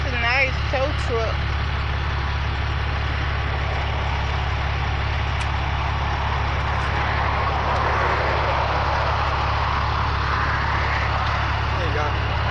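A tow truck engine idling nearby, a steady low hum and drone that runs under the whole stretch while people talk faintly in the background.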